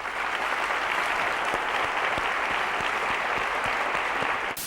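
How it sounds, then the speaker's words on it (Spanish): Dense, steady applause from a television game show studio audience, loud and sustained throughout, ending abruptly. "Hay un aplauso ya."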